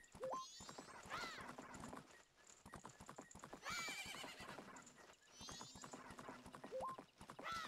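Horse in the video game The Legend of Zelda: Majora's Mask galloping with rapid rhythmic clip-clop hoofbeats and repeated loud neighs, game sound effects playing continuously.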